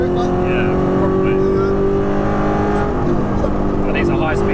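A tuned Audi R8 with a V8 and manual gearbox accelerates hard. The engine drones loudly and steadily from inside the car while people talk over it.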